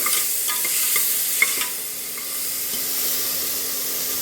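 Ginger garlic paste is stirred into a frying soy gravy, a steady close sizzle and hiss with soft scraping strokes of the spoon and no speech.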